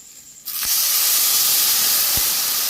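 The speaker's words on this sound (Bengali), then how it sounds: "এখন হয়ে গেছে, আমি কিন্তু এখন জলটা আমি দিয়ে দেব" Water is poured into a hot pan of fried boiled chickpeas for ghugni, setting off a sudden loud steam hiss that stays sustained and close after a quiet start, with a couple of soft knocks underneath.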